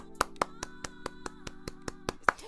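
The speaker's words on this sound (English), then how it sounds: "that is a round of applause for Stefan" One person claps about eleven times at an even, steady pace, each clap sharp and close against a quiet background.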